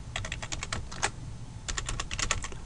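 Rapid keystrokes on a computer keyboard, two close bursts of typing separated by a short pause, crisp and near with no talk.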